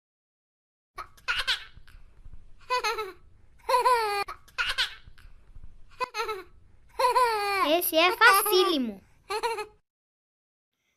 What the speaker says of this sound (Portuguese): Bebê feliz.